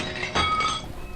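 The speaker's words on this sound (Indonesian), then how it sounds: "ia mendengarkan suara foto terjatuh" A picture frame falls and its glass clinks and rings in one brief, sharp crash that quickly fades.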